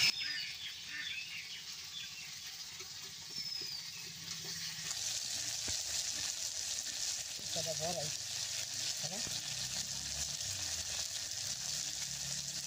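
Small-fish fritters coated in rice flour and ash gourd leaves fry in hot oil. A continuous, even sizzle hisses throughout, with faint background chirps and a slight shift in texture partway through.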